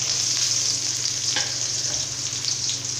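Finely chopped onions hit hot oil where mustard seeds and urad dal have already spluttered, for a South Indian sambar, making a loud, continuous close sizzle with a brief stirring scrape partway through.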